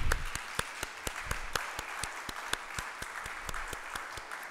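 Audience applause for the women attending a conference closing ceremony, a steady patter of many hands clapping at moderate distance for a few seconds, with no talking over it.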